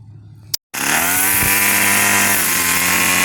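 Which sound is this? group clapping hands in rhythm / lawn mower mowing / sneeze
lawn mower mowing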